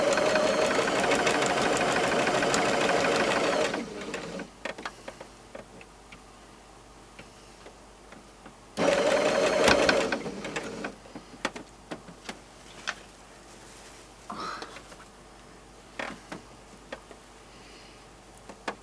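A sewing machine stitches the seams of homemade oven gloves in two bursts of rapid, steady mechanical running, each a few seconds long, separated by quieter handling noise and small clicks.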